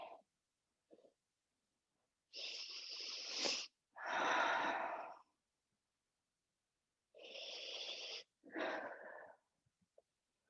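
Forceful exhales during a yoga exercise, four strong breathy bursts in two pairs with short gaps between, close and clear in a quiet room.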